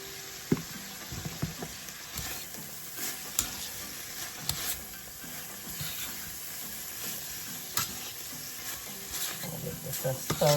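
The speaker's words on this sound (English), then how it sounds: "Just stir, guys." Cabbage and salt fish sizzle steadily in a pan while being stirred, with scraping clatters of the utensil recurring throughout; the frying stays loud and continuous, a home-cooked Jamaican dish.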